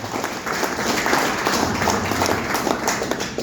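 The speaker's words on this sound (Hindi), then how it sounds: "एक बार सिस्टम के लिए जोरदार ताली।" Loud audience applause at a company event in India, a continuous roar of many hands clapping that swells slightly and holds steady for a few seconds, with no talk over it.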